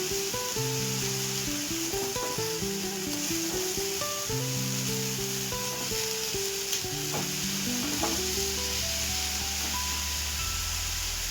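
Vegetables sauté in a spiced masala in a pan, a continuous close sizzle with stirring scrapes throughout. Tonal music plays over the top.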